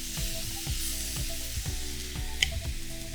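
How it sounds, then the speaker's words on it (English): Bone-in pork sizzling as it sears in hot soybean oil in a pan, a steady close crackle with brief spits and pops, no voices. "I'm just gonna sear it, place it right into the pan."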